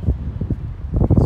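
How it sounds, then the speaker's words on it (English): Gusty wind buffets the microphone on an exposed Shetland viewpoint by an old cannon above a harbour, a brief low rumbling rush with uneven puffs. "Maybe a bit windy."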